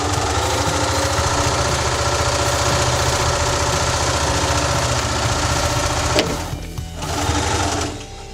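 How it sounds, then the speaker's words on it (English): Sewing machine running steadily while stitching a pocket about an eighth of an inch from the fabric edge, a loud continuous mechanical whirr that pauses briefly near the end, with no talking. "I'm stitching about 1/8 of an inch from the edge, using the foot as a guide."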